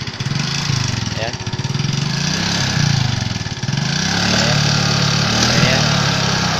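Smoky automatic scooter engine idling: a close, loud, uneven puttering drone that rises and dips in pitch as the throttle is blipped, with someone talking over it.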